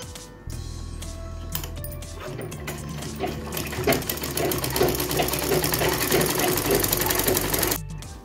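Sewing machine stitching over the joined seam of a blouse, a continuous close mechanical whir with a fast needle rattle that starts abruptly and stops near the end, no talk.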